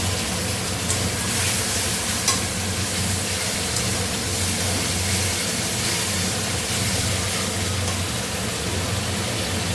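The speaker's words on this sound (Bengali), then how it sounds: "এরপর আমি দিয়ে দিচ্ছি হালকা করে একটুখানি জল।" Water poured over fried, spiced masala in a pan for a chicken curry, giving a steady, loud frying hiss that runs unbroken from start to finish, with no voices.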